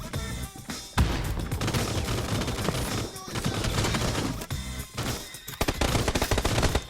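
Gunfire in the PUBG shooter game on PS4, dense loud bursts of rapid automatic shots with brief gaps between volleys, no speech over them.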